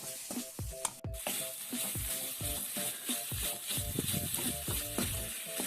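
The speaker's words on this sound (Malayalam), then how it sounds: "ഈ പൊടികളുടെയൊക്കെ പച്ച മണം മാറുന്നത് വരെ ഒന്ന് നന്നായിട്ട് മിക്സ് ചെയ്യാം" Garam masala and spice powders fry and sizzle in a pan for a crab fry, with steady scraping stirs every half second or so and a constant close hiss underneath.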